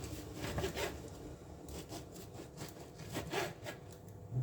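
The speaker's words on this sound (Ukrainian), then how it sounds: "Я взяла 4 скибочки і нарізаю їх кубиком." Knife slicing slices of day-old bread into cubes on a board, a steady run of rough sawing and scraping strokes, close and fairly quiet, with no talking.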